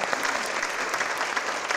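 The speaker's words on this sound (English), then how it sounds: "So once again, if we can just give Megan another round of applause to say thank you very much for being here." Audience applause at an International Women's Day breakfast event, a dense, steady burst of clapping from a room full of people, close and continuous throughout.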